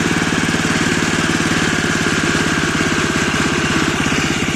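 Petrol walk-behind tractor engine idling steadily up close, a loud even mechanical chug with a fast regular pulse and constant vibration throughout, no voices over it.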